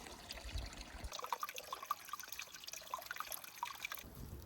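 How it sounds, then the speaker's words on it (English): Water from a mountain flume trail trickling and splashing into a bottle through a filter, a steady close-up gurgle lasting a few seconds, fairly quiet with no talking. "I'm gonna use my bottle and my filter a bit."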